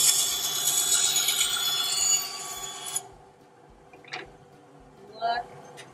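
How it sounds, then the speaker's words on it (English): Ryobi bandsaw running at speed with a wood piece pushed through, a loud steady broadband whine of the blade biting for about three seconds, then cutting off abruptly to near quiet with a few faint knocks. "It's up to speed, so I'm going to go ahead and push it through"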